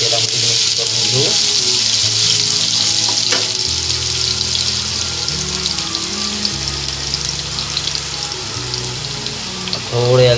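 Garlic fries in hot oil in a pan for a Maharashtrian drumstick and potato dish, a continuous loud, close sizzle with scattered crackles throughout.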